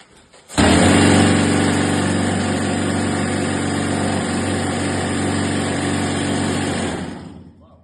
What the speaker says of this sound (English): So now I'm just gonna demonstrate the machine for you.